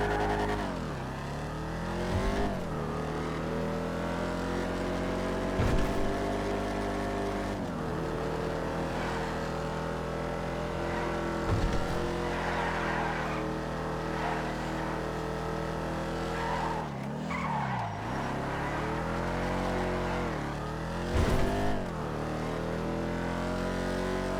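A two-door sports convertible's engine in a video game drones and revs, pitch sweeping up and down through repeated gear changes over a long stretch, with brief sharp knocks now and then and no talking.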